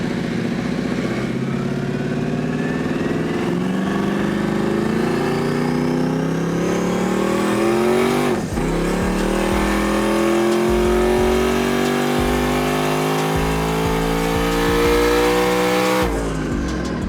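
A 1200hp Ford Mustang GT350 at a flashlight shootout drag race, accelerating hard with a loud rising engine roar through several upshifts, each gear climbing in pitch, close and dominant.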